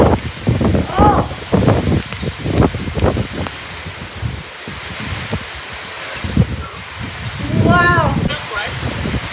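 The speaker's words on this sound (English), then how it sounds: "I'm just getting wet by the rain" Rain falls steadily during a haboob dust storm with lightning in Phoenix, Arizona, a broad noisy wash that runs under frequent close talk and exclamations from a person outdoors.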